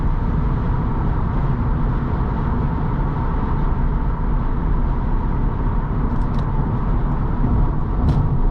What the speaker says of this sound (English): There's some wind noise,